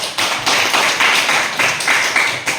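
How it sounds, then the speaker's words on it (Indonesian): Classroom applause for a student, a group of pupils clapping together in a steady, fairly loud burst of rhythmic claps lasting a few seconds with no talk over it. "Berikan aplaus kepada"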